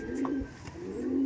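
Pigeons cooing at a loft being sold off, a short low murmuring coo at moderate level over a steady background, no talk.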